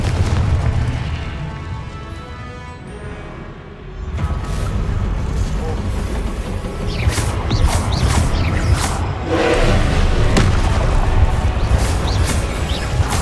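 Confringo explosion spells cast in the Hogwarts Legacy video game, heard as repeated booming blasts and bursts over a dense, continuous game soundscape that grows louder midway.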